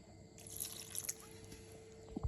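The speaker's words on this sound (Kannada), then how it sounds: "ಸ್ವಲ್ಪ ಸ್ವಲ್ಪ ನೀರನ್ನು ಹಾಕ್ತಾ ಇದ್ದೀನಿ" Water is poured little by little into a grinder of roasted eggplant chutney with coriander leaves, making a faint, brief trickle with a few soft drips.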